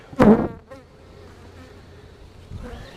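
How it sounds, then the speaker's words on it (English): A swarm of honey bees recently collected from a tree, buzzing as an insect drone with one loud close pass early on, then a softer steady hum and another rise near the end. "this is the swarm we picked up the other day in the tree"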